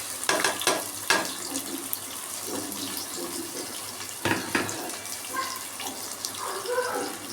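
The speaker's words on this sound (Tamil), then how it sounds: "வெங்காயம் நல்லா வதங்கட்டும்" Chopped medium onions with cardamom and cloves fry in a pan for plain biryani, giving a soft steady sizzle broken by sharp crackling bursts and the clatter of stirring.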